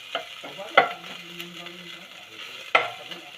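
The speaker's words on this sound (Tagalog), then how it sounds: "Bawang. Gigisa na." Chopped garlic sautés in a hot pan with a soft continuous sizzle, broken by a few sharp scraping stirs and clinks of a utensil against the pan, close by and without talk.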